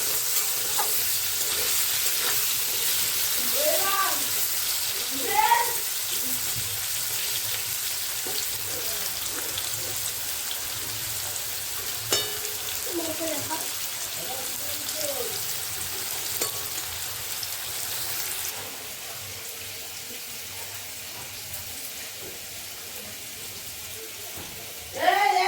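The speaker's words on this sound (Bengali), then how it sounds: "সবে আলু বসিয়েছি ভাজা" Potatoes sit frying in a pan beside soybean chunks being cooked for a curry: a steady, rain-like sizzle runs throughout, with occasional spoon clinks and a voice talking over it at times.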